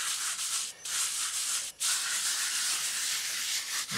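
Patch compound is rubbed by hand into a crack in a concrete porch, a steady, close, dry scraping hiss that continues with only two brief pauses.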